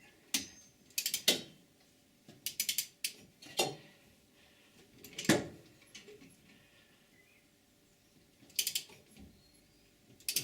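A torque wrench tightens nuts on the rear suspension of a Triumph Vitesse, giving close ratcheting clicks in short spaced bursts with pauses between, moderately quiet and without talk.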